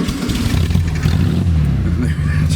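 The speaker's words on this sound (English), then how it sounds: "Just great old-fashioned air-cooled VW sound" An air-cooled VW engine in a Myers Manx dune buggy fires up and settles into a loud, close, throbbing idle with a slight rev near the end.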